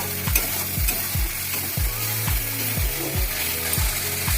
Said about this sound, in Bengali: মশলাটা ভাজা ভাজা হয়ে যাচ্ছে